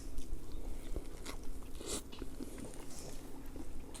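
Someone bites into and chews a homemade bacon smash burger up close, with soft crunches and wet chewing over quiet room noise and no talking.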